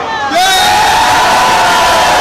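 Crowd at an outdoor Orange Revolution rally in Kyiv cheering and applauding police joining them: a loud, sustained roar of many voices with rising whoops and shouts, swelling suddenly and holding steady.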